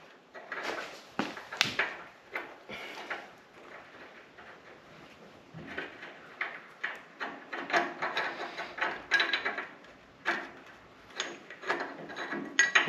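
A hand ratchet reinstalls bolts on an off-road vehicle, with repeated bursts of quick clicking pawl strokes and metallic clanks, close and irregular, separated by short pauses.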